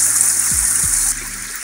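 Spring water flows out of rocks beside a hill trail in Margalla Hills National Park, Islamabad, with a steady, close, hissing rush and no voices.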